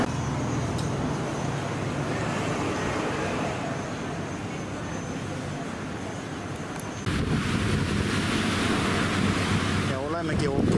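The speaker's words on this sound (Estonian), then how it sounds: "Ja olemegi ookeani ääres." Ocean surf rolls onto a beach in Krabi, Thailand, with heavy wind buffeting the microphone, a loud continuous roar of waves and gusts that grows rougher partway through.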